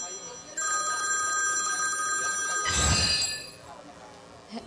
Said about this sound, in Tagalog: O, may tumatawag. Ring. Kaninong telepono yun?